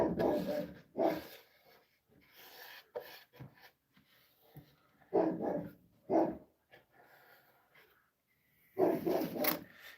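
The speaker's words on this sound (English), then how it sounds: "I gotta see what that Pyrenees is barking at." A Great Pyrenees barks in bursts at a woodworking spot where a redwood planter is being built, several loud barks spaced across the stretch with quieter rubbing sounds between.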